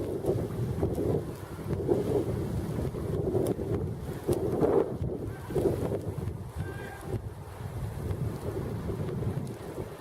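A snow blizzard drives cold wind across the microphone in heavy, gusting buffets and roars, with rumbling low-end swells that rise and fall irregularly.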